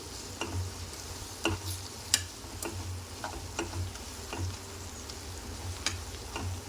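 Chilli powder fries in oil in a pan for okra tamarind stew, a soft, low sizzle under quiet, irregular ticks and scrapes of a spoon stirring, with no voices.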